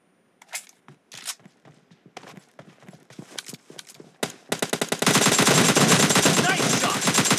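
Gunfire in a 1v1 shooting video game: scattered single shots at first, then a dense, loud stretch of rapid automatic fire that continues to the end.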